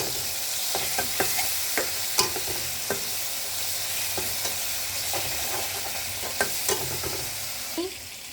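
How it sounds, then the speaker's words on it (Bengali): Chicken, egg and masala for a pasta dish sizzle gently in a pan while a spatula stirs and taps the metal in scattered, irregular strokes, fairly quiet and with no voices. "এখন ভালোভাবে সবগুলো নাড়াচাড়া করে মিশিয়ে নিচ্ছি।"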